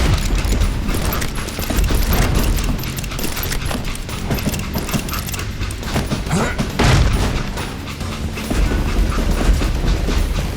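Rolling train with clattering rail noise mixed with gunfire bursts and booms in the Western shooter Call of Juarez: Gunslinger, loud and continuous throughout.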